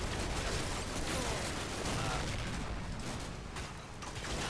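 Artillery area fire in the war game Combat Mission: Black Sea rumbles as a dense, continuous barrage of overlapping blasts, steady and loud for the whole stretch with no clear gaps.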